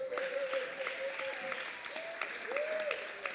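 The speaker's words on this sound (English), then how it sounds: "give a warm round of applause for our indefatigable assistant, Yulia, and our sound man" Audience applause at a reggae music industry panel at Rototom Sunsplash, steady moderate clapping from a crowd with brief tonal sounds over it, no speech.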